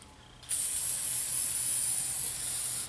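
An aerosol can of anti-corrosion spray coats the metal terminals of Trojan golf cart batteries, a sudden loud, close hiss that starts after a brief quiet moment and holds steady to the end.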